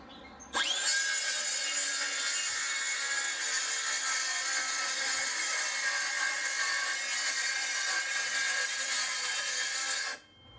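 A Makita DHS680 18V brushless cordless circular saw cuts through timber in one steady, loud, close pass of about ten seconds, with a high whining blade tone held throughout and an abrupt stop when the cut ends.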